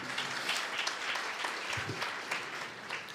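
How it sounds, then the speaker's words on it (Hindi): Loud, sustained clapping from a church congregation during worship, a thick crowd of hands applauding continuously and evenly for several seconds. "आइए जोरदार ताली यीशु मसीह के लिए बजाएंगे"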